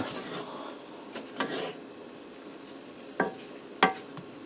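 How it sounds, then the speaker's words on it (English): Sausage and potato skillet with cheddar being stirred, with a few scraping strokes of a utensil against the pan over a faint sizzle, close and fairly quiet. "I'm going to go ahead and stir that in."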